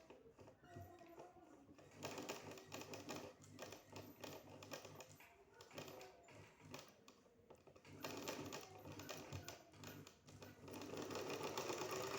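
A sewing machine runs steadily, stitching pleats on an embellished suit decorated with stones. It gives a fast, close mechanical rattle that briefly eases and then picks up again.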